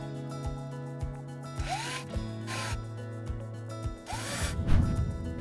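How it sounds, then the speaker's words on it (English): Flathead number 6 by 5/8 wood screws are driven into screw-on drawer-slide brackets on a face frame cabinet's back wall, giving several short whirring bursts of a driver with light clicks and rubbing between them. "Attach the screw-on brackets to the back wall using number 6 by 5/8 flathead wood screws."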